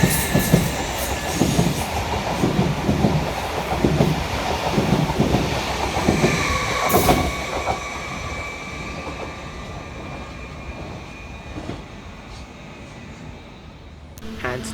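A Greater Anglia train pulls away from a station with a loud, near rumble and wheel clatter, then fades into the distance as a high squeal lingers.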